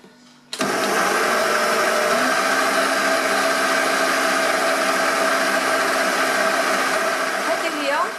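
An electric mixer starts abruptly and whirs steadily at high speed, whipping coloured buttercream (crème au beurre) in a bowl, a loud continuous motor drone close by, with faint scraping toward the end.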